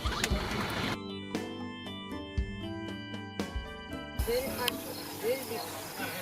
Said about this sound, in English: it's also frogs